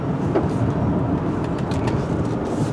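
A 1998 Lexus LS 400 sedan accelerates in power mode, its engine a smooth, steady broadband drone heard from the cabin along with road noise, loud and unbroken throughout.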